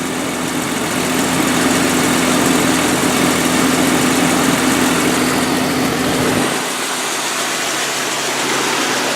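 A Jeep engine idles rough with a steady, loud mechanical rumble and vibration that carries on unchanged for several seconds, then its low end drops away partway through.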